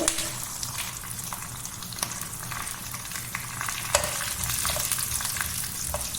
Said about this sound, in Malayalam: കുറച്ച് കടുക് ഇടുക ഒരു സ്പൂണിൽ അരി എടുത്തിട്ടുണ്ട് അത് ഇടുക പിന്നെ കായമുളക് ഇടുന്നുണ്ട്